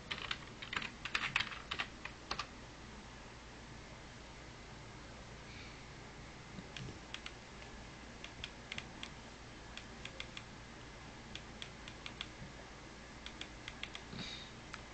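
Typing on a computer keyboard at a Windows XP Compaq Presario S4040 desktop, quiet scattered key clicks in short bursts and pauses over a faint steady hum, no talking.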